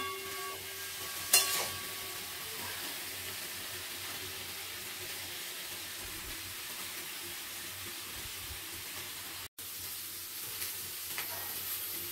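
Chopped pumpkin, potato, flat beans and aubergine frying in a pan, a continuous close hiss of sizzling oil with a few faint stirring scrapes and one brief sharp clink early on.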